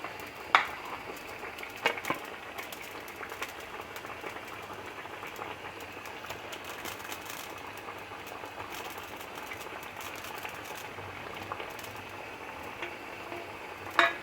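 Fish curry gravy with cauliflower and potato, made with koi fish, simmers in a pot with a faint, steady bubbling and a few soft clinks near the start and end, with no voices.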